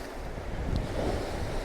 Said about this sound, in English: Power of those waves coming in is huge.